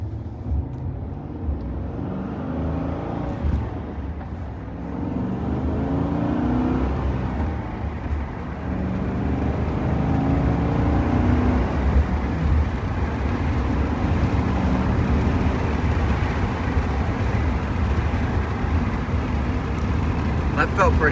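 2016 Chevrolet SS with a newly installed clutch and six-speed manual, heard from inside the cabin as a steady low engine and road drone while driving and shifting, with people talking throughout.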